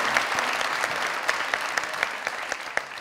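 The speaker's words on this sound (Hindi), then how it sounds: "तो और तालियां।" Steady applause from a comedy talk show studio audience, many hands clapping together at a moderate distance with a few sharper claps standing out.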